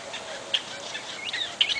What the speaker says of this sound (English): And the birds just seem to love it. They just come in here in droves.